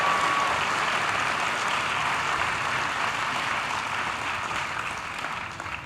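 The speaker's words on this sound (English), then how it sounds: "give them another round of applause." A hall audience at the 2017 State of Education Address in San Bernardino gives a sustained round of applause, a dense, steady wash of clapping that holds loud throughout and eases slightly toward the end, with no talking.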